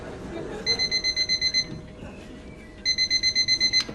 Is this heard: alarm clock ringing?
yes